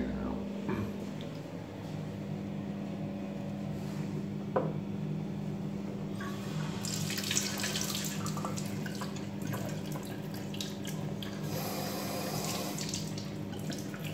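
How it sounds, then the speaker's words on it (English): Water runs steadily into a sink in an old village pub, a constant quiet rush with faint drips and a few knocks, growing brighter and splashier in the second half. "Really nice sink"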